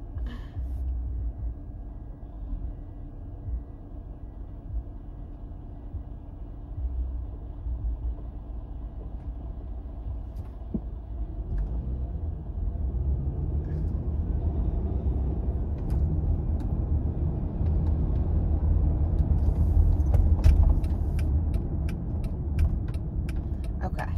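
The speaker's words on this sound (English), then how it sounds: "I can't go. There's a car." Car traffic rumbles along a busy town road, a low steady drone that swells louder in the second half as vehicles pass nearby, with faint clicks and no talk.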